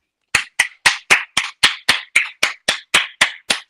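Thirteen sharp, evenly spaced claps, close and loud, from a single pair of hands with clear silence between each.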